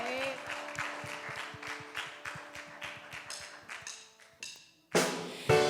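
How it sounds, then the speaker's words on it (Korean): A church congregation claps at a Sunday worship service, a run of sharp, fairly even claps under a sustained tone that stops abruptly, followed by a brief louder burst. "살아계신 하나님께 박수로 영광 올려드립시다."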